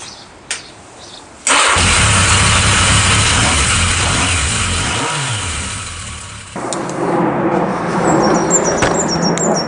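A Yamaha XJ750 motorcycle engine, left unused for three years, catches after a brief crank and settles into a loud, steady idle close by, with a slight change in tone near the end.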